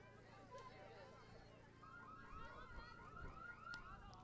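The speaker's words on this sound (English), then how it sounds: "another car alarm sound effect" A car alarm whoops and warbles in the distance during a college softball game broadcast, cycling through rising electronic tones beneath a murmuring crowd.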